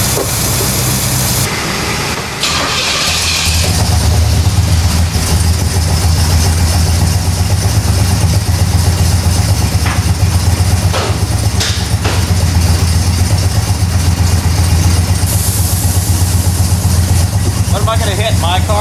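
A 1967 Pontiac GTO V8 running after being fired up, a loud, steady low rumble with a rough idle that holds throughout, while people talk nearby over it.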